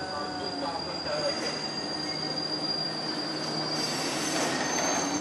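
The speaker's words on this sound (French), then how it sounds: "ça c'est le RER" A Paris RER commuter train squeals steadily on its wheels with a sustained piercing high whine over rumbling rail noise, loud and close, with no talk.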